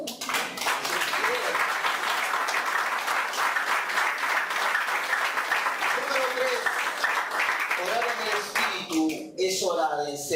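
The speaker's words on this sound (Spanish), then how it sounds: "Aplaudan al Señor." Church congregation applauding continuously during a Spanish-language sermon, a steady dense wash of clapping that carries on for several seconds before voices and singing-like speech rise near the end.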